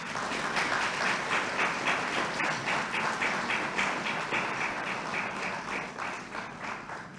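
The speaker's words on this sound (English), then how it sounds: "please join me in extending a resounding round of applause in congratulation to them" Applause from an audience at an investiture ceremony: dense, sustained clapping from a large crowd, loud and even, fading a little toward the end.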